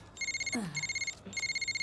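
A telephone rings in short repeating electronic bursts in a film scene, two rings with a brief gap, fairly close and clear, with a faint voice murmuring between them.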